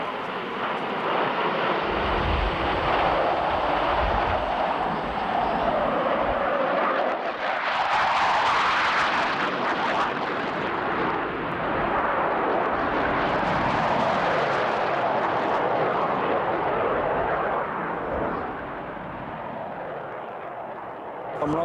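Blue Angels F/A-18 jets pass in right echelon formation at about 350 mph during an aerial performance, a loud sustained roar that swells and lingers for many seconds, with an announcer's voice faintly under it.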